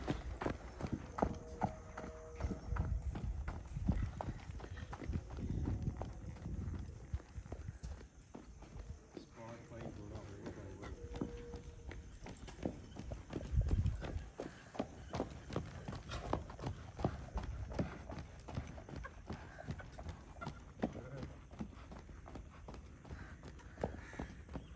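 A gaited horse walks along a road, its hooves striking in a rapid, even clip-clop rhythm that stays close and clear while people talk nearby.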